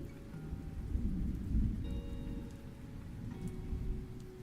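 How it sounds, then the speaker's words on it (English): Recorded thunderstorm ambience plays in the background of a room: steady rain hiss with low, rolling thunder swelling midway, plus faint sustained tonal notes drifting through at a moderate, even level. "Get some thunderstorm sounds there in the back"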